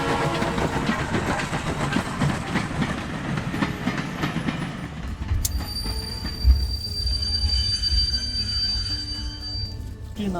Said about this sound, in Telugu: ఇప్పుడైతే నేను ఎల్టీటీ ట్రైన్లో ఉన్నాను